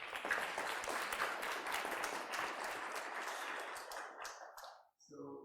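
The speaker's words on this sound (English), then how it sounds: "and then big applause for Mr. Andre." An audience applauds after a talk on branding and user experience design, a sustained wash of clapping that holds steady before cutting off near the end, where a voice briefly speaks.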